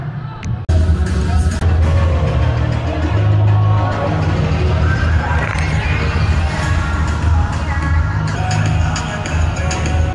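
A large crowd at a PBA basketball game between Ginebra and Northport inside Ninoy Aquino Stadium, with a dense, steady roar of chatter and cheering throughout and a brief lift of louder cheering near the end.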